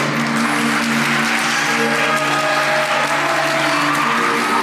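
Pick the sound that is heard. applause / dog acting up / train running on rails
applause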